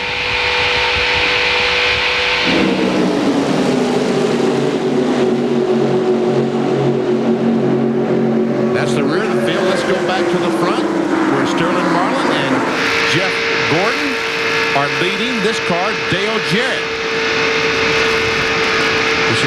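Winston Cup stock cars racing at Daytona in the 1996 Pepsi 400, a loud continuous engine roar with shifting pitch as the pack passes, under constant commentary.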